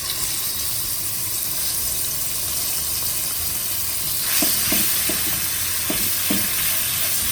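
Sambal sizzles steadily in a hot wok, a constant bright frying hiss, with a few light scraping taps of stirring near the end.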